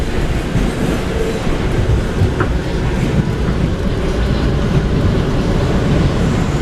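An R179 subway train runs on the A line in New York, giving a loud, steady rumble and roar of wheels on track with faint clatter throughout.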